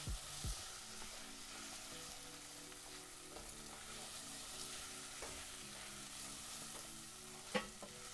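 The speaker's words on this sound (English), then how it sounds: "You can smell the garlic starting to get fried." Garlic fries in a pan for an Italian clam and pastina soup, a soft, even sizzle with faint stirring throughout, quiet and steady, with one sharp utensil knock near the end and no talk.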